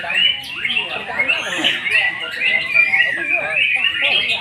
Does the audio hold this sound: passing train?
no